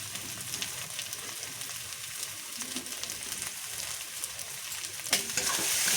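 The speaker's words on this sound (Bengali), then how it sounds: "সুন্দর করে মশলাটা কষিয়ে নেব" Spice paste with salt and turmeric fries in an oil-filled pan for a Bengali fish curry, a steady close sizzle with scraping stirs, growing louder near the end.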